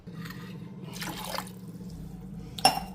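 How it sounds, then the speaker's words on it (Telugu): Water poured into a pot of potatoes on a home kitchen stove, a short liquid splash and trickle followed by a sharp clink of a lid or utensil near the end, close and fairly quiet. "ఇంకొంచెం వాటర్ వేసేసి నేను మూత పెట్టేస్తాను"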